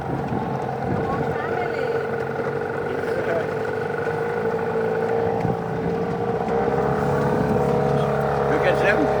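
A motorboat engine drones steadily throughout at the Blue Lagoon in Jamaica, a constant nearby hum with water and wind noise, with faint voices in the background.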